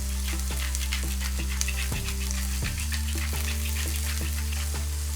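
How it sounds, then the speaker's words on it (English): Onions sautéing with a pinch of black pepper in a pan while bitter gourd is being prepared, a continuous faint sizzle beneath a steady low hum and background music. "just saute the onions. And we'll put a little bit of black pepper in with the onions."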